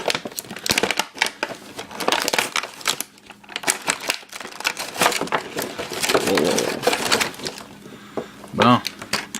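Packaging of a Transformers Generations Jhiaxus Deluxe Class toy being torn open and crinkled, with dense bursts of crackling plastic and cardboard rustles close up, interrupted by a person speaking.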